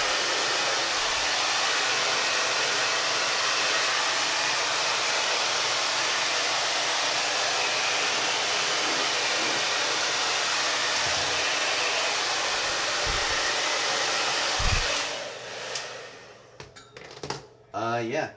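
Hair dryer blowing hot air while hair is styled with a brush or hands, a loud steady close whoosh that runs unbroken, then cuts off near the end, leaving brief handling noises.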